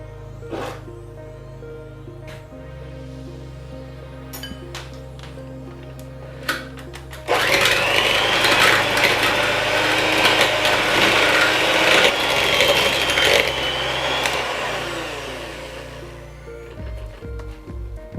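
An electric mixer creams sugar with butter for a rice cake batter, starting with a steady motor hum and then rising to a loud, rough whirring grind that holds for several seconds before cutting back down.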